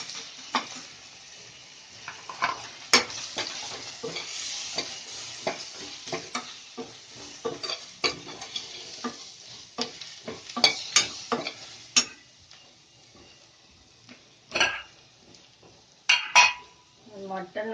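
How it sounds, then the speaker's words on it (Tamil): Sambar powder and fennel seeds frying in hot oil for mutton sambar, with a soft continuous sizzle broken by frequent stirring scrapes and clinks of a utensil against the pan, close by. "இந்த எண்ணெயிலே சாம்பார் பொடியும் சோம்பும் திரிச்சது போடுறேன்."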